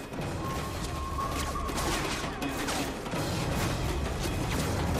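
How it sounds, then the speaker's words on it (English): Explosions and gunfire from a Call of Duty: Modern Warfare 3 battle rumble continuously, with mortar shells landing amid a dense, loud wash of distant shooting and crashing with no clear pauses. "Start putting shells down range. Use the mortar and hose those bastards down!"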